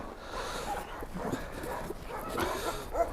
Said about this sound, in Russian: аборигенная якутская гончая лайка